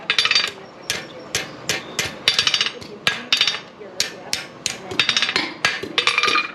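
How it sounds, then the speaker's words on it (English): Rapid, ringing hammer blows strike hot metal at a forge in uneven bursts, close and loud, with brief pauses between volleys. "Flip it over, finish hammering it down."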